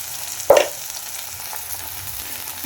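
Ground cumin, coriander and turmeric sizzle in hot oil while being stirred for a cauliflower curry, a soft steady frying hiss with a brief louder scrape of the spoon near the start.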